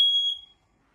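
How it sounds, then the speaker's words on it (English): A smoke detector alarm in a travel trailer gives a single loud, shrill electronic beep that cuts off after about half a second, leaving silence. "We do have a smoke detector that's going to make that annoying little sound."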